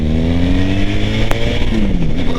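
Cruiser motorcycle accelerating hard in first gear, a loud, close engine roar whose pitch rises steadily, with a brief click partway through.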